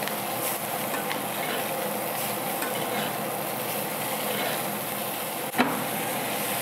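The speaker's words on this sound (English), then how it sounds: "at this point, you just wanna start basting your steak" Steak sizzling loudly in a hot pan while it is basted with butter, garlic and herbs, a continuous close frying hiss with a single sharp knock near the end and no talk.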